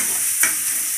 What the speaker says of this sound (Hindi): इसको धीमी आंच पे थोड़ा सा देर तक भून लें